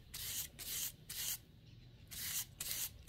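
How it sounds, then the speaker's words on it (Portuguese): A paintbrush for fabric painting is rubbed on fine sandpaper in short back-and-forth strokes, a close, dry rasping hiss in separate bursts. "Então, passa na lixa grossa. Depois, vamos pra lixa mais fina."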